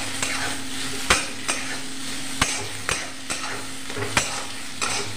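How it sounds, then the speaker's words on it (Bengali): A spatula taps and scrapes through a sizzling potato and egg roll filling after soy sauce is added, giving a steady frying hiss broken by roughly regular sharp knocks on the pan. "সয়া সস দিয়ে দিচ্ছি। এবার একটু মিশিয়ে নেব।"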